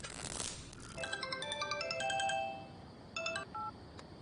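A mobile phone ringtone chimes a bright, repeating electronic melody, fairly faint, ringing on its own with no talk over it.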